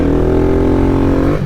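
A Kawasaki Z125 Pro motorcycle with a sticky clutch revs hard for a wheelie attempt, a loud, close, rising engine whine held for about a second before cutting off abruptly.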